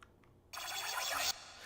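A reversed modular-synth crash cymbal swells quickly to a loud, bright wash of noise, then cuts off abruptly, leaving a faint reverberant tail.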